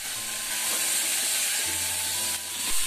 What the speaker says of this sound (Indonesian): Terus sayurannya ditumis dulu supaya nanti bumbunya meresap ke dalam sayurannya